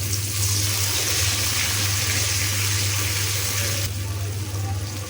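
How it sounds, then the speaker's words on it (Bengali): Water pours in a steady gushing stream for several seconds into a cooking pan of ground spices, close by, then the flow eases near the end. "মশলা সিদ্ধ হওয়ার জন্য একটু পানি।"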